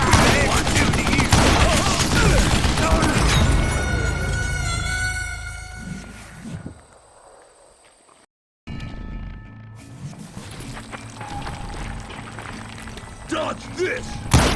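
Gunfire in Call of Juarez: Gunslinger: rapid, loud shots and thuds crowd the first seconds under a voice, then drop to near silence before scattered shots and game sounds return.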